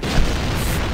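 A loud explosion boom in a modded video game fills the moment, a dense sustained low rumble with a brief burst near the start.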